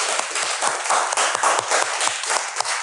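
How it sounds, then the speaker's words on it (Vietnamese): A classroom of students applauds a winning group in a geography lesson, giving a dense, steady patter of many hands clapping close by for a few seconds with no talk over it. "Rồi chúng ta dành tặng các bạn nhóm số 2 một tràng vỗ tay nhỉ."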